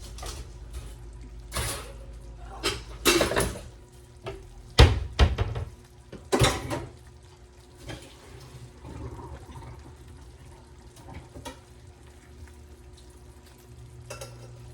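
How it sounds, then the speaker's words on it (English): Cooked pantry food is tipped into a strainer, with a few loud splashing pours and clattering bursts in the first half, then quieter dripping and faint handling sounds near the sink. "Let me get these drained, guys. I need a strainer."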